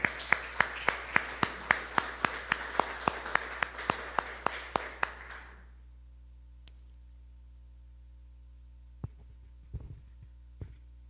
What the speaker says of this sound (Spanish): Un aplauso para Nati, por favor